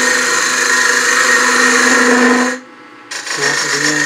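A wood lathe turning a small birdhouse ornament whirs with a steady, close mechanical drone, cuts out briefly near the end, then resumes, with some speech mixed in.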